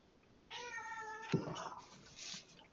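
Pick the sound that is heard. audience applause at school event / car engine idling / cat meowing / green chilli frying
cat meowing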